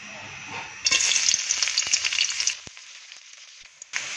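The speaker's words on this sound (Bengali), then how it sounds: "এখন দেব পেঁয়াজ কুচি" Chopped onions hit hot oil in a wok (kadai), giving a loud, crackling sizzle that lasts about two seconds, then settles into a softer, steady frying hiss.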